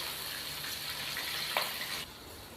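Two chopped onions hiss and sizzle steadily as they fry in hot oil in a pan that held fried chicken for palak gosht. A brief clink sounds partway through, then the sizzle drops in loudness near the end.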